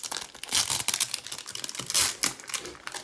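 A Pokémon card booster pack wrapper is torn open in several bursts of crinkling, crackly plastic noise, close and fairly loud, with short pauses between rips.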